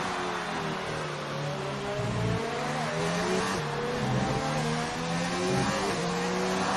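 Renault race car engine in a racing video game, Whistler's car on an out lap behind another competitor, droning steadily with shifting pitch as it revs and changes gear, loud and continuous throughout.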